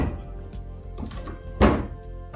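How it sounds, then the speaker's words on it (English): Wooden clamps come off a vintage dresser during a furniture makeover, giving one loud, close thunk partway through amid softer knocks and handling noise. "I took off the clamps."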